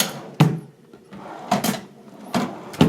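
Drawers of a hotel room chest under a stone counter sliding open and shut three times at a steady spacing, each a close, sharp wooden rumble and thud with quiet room tone in between.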